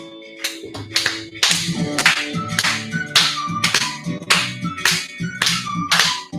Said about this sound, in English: we gotta do a couple of like old lady black claps.